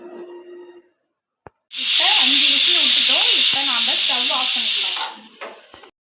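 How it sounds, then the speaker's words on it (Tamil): A pressure cooker whistles while cooking idli sambar, a loud, sharp burst of steam hiss lasting about three seconds, with someone talking before it and partly over it. "அடுப்பு ஸ்டவ் ஆன் பண்ணி அஞ்சு விசில் விட்டுக்கலாம்"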